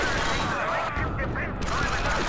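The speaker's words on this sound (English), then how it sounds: "It's a very high damage recharging pistol." Rapid shots from a high-damage recharging pistol in Star Wars Republic Commando ring out in a dense, continuous barrage of gunfire that fills the whole stretch, mixed with other battle noise.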